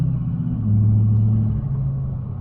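LML Duramax diesel pickup truck engine pulling at roughly 30–40% throttle on a cold morning, a steady loud low rumble that swells slightly midway and holds, with no talk over it.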